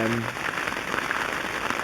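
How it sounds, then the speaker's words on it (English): Heavy rain pours down steadily at a carp-fishing spot, a dense, even hiss of drops on surfaces that holds at the same level throughout, with a brief low voice at the very start. "it's been pouring down rain"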